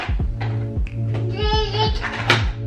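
A small child vocalizes and plays nearby, with short cries and babbling mixed with thumping taps of toys over a low, rhythmic throbbing.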